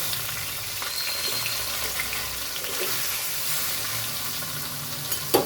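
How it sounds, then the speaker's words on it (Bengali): Prawns fry in a pan of oil with a steady, even sizzle that stays fairly quiet and constant, ending in a brief clatter near the close. "এখন চিংড়ি মাছগুলো ভাজবো"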